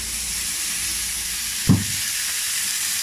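Marinated chicken skewers frying in a light drizzle of oil, a steady broadband sizzle and hiss throughout with one brief low thump partway, no talking.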